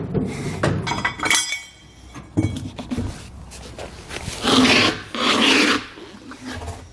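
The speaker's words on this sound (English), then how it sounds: "what we're going to do is just temporarily lower our spare tire" A spare tire is lowered from beneath a 2012 Dodge Ram pickup, giving a grinding, rasping crank and chain noise in uneven bursts, with metallic rattles and louder scraping surges near the end.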